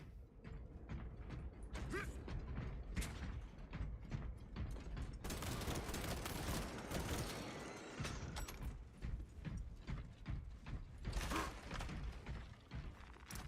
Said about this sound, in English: Changing magazine